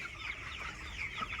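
Chickens cluck in short, close, repeated bursts, a busy chatter of hens heard plainly with no talking.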